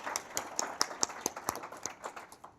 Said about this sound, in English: Why don't we give that lot a round of applause?